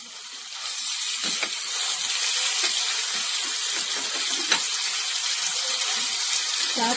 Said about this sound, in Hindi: अब इसी स्टेज पे मैं लहसुन अदरक का पेस्ट डालूंगी।